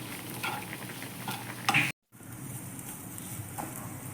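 Grated coconut with chicken masala, chili powder, turmeric and salt sizzles in a pan while being stirred, a close, steady frying hiss with scraping stirs, briefly cutting out near the middle before resuming.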